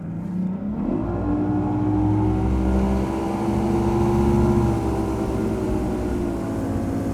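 A boat powered by a Mercury Optimax Pro XS 250 outboard accelerates onto plane, its engine drone rising steadily in pitch and staying loud and close throughout, with no talking.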